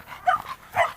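A bulldog gives two short whimpering yelps, close and fairly loud, with a brief pause between them.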